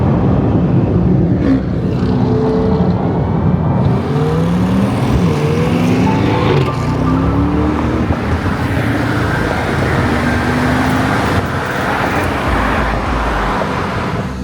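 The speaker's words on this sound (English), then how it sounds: "So good reason to pull the Corvette out early in the morning," A Corvette Stingray convertible drives early in the morning, its engine a steady low drone with gently rising and falling tones under constant road and traffic noise.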